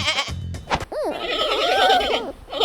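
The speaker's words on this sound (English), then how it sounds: "Pandas don't roar like lions. They bleat like baby goats." A panda bleats like a baby goat, giving a few short wavering cries in quick succession that sound fairly near and moderately loud.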